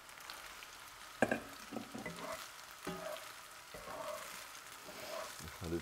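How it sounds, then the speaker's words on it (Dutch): Cooked rice for nasi goreng sizzles and crackles in a hot pan while a utensil stirs and scrapes it. Irregular clinks and scrapes sit over a continuous frying hiss, fairly quiet and close. "Ik doe nu de rijst in de pan."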